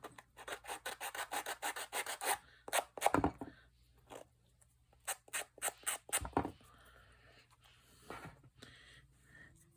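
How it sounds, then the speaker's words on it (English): Wood is sanded by hand in quick back-and-forth rasping strokes, a dense rhythmic burst at first, then pauses and shorter runs of rubbing, close and clear. "I'm going to actually, whoops, sand it again"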